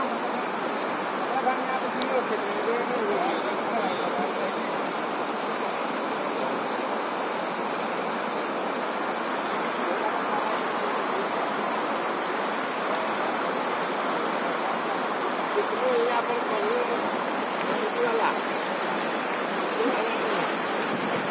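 Floodwater surges under and around a bridge in Nazirpur, a loud, unbroken roaring rush like a torrent that holds steady for over twenty seconds with no break.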